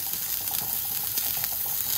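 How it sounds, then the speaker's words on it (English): Fillet steak searing in high smoke point oil, a steady bright hiss and crackle of frying, continuous and close with no talk. "Take this beautiful fillet steak. A bit of high smoke point oil. Let's sear it on every side."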